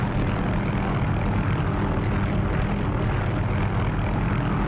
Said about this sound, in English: let's go get airborne with the old Cayuse